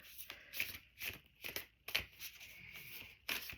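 Tarot cards being riffled and bridged in short bursts, crisp fluttering snaps repeating several times with brief pauses between, close and fairly quiet.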